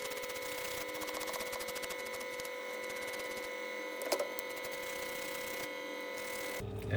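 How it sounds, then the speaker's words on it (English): A toothbrush scrubs a small connector on a broken Roborock S7 Pro Ultra robot vacuum, giving rapid rattling bristle strokes in bursts over a steady background hum, close up and without talk. "I use a toothbrush."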